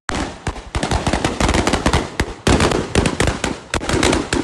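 Firecrackers burst in rapid, loud chains of sharp cracks at a party victory celebration after a teachers' constituency election, with a short gap before another crackling run.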